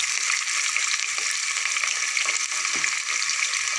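Ginger garlic paste frying in a hot pan, a steady, dense sizzle that holds at an even level throughout with faint crackles and no voices.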